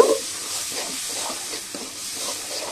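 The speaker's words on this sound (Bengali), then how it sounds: "তাতে দিয়ে দেব একটু জল, আর একটু কষিয়ে নেব" Masala with salt and a splash of water being stirred and fried in a pan for a koi fish curry, a steady soft sizzle with gentle scraping strokes throughout, no voices.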